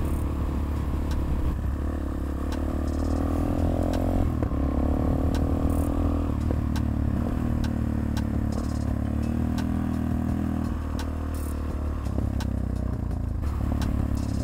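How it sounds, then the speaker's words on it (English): A motorcycle engine with no fairings idles and runs steadily close by, a raw, unmuffled mechanical rumble with light clattering ticks over it. "It does sound different because you can hear the engine."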